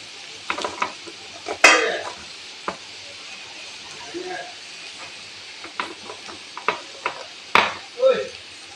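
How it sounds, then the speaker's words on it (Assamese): Onions cooking in a pan with crushed garlic just added, for a Bengali egg dish, heard as a soft low sizzle broken by sporadic scraping and clinking stirs from a utensil against the pan, fairly close, with quiet gaps between strokes. "এতিয়া ইয়াতে অলপ খুন্দি লোৱা নহৰু দি দিছোঁ।"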